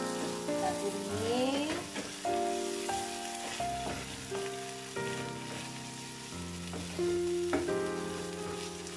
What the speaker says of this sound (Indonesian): ini adalah La Fonte Bolognese tuh, dan kita akan tumis di sini